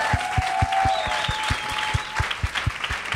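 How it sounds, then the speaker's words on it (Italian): A live podcast audience applauds steadily in an indoor venue, a dense, sustained wash of clapping with sharp individual claps standing out nearby, plus a faint whistle or tone early on and no talk over it. "Solitamente l'applauso ci dice qual è il sentiment della serata."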